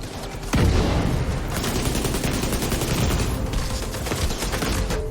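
Dense gunfire in The Division 2 game, a sudden loud burst that turns into sustained rapid automatic fire and overlapping shots, continuous and close for several seconds.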